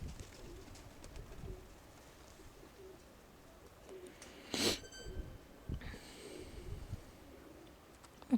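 Pigeons being chased into the air give soft, low cooing against a faint outdoor wind-like hiss, with one sharper flurry midway and a few scattered bird sounds at a moderate distance.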